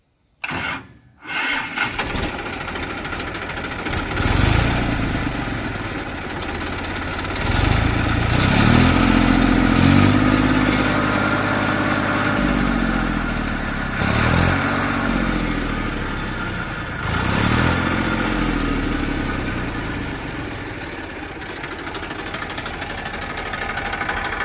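Massey Ferguson 241 tractor engine starts up and settles into a loud, steady diesel idle, close by, with a few swells in revving and a brief knock at the start.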